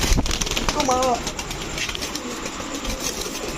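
Restless pigeons, kept for sale as pets, give a brief warbling coo amid a busy background with bursts of wing and cage noise, while someone talks over them.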